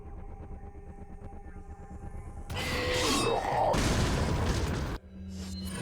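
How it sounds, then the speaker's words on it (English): A rocket launcher blast in Resident Evil 4 erupts as a loud, broad roaring burst lasting over two seconds after a quieter rumbling hum, then drops off abruptly. "Too bad for them, I have my ever so trusty rocket launcher with me."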